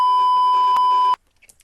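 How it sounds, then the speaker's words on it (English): A steady censor bleep tone holds for about a second, loud and continuous, covering spoken swearing, then cuts off into near silence with faint small noises. "We're going to have to beep the majority of that"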